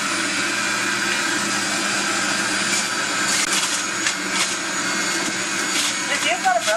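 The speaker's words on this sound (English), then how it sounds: "I just stick the kale in 1 or 2 leaves at a time and just push it all down." Kitchen juicer crushing kale leaves fed in one or two at a time and pushed down, a loud continuous motor drone with grinding, crunching bursts growing busier toward the end while a person talks over it.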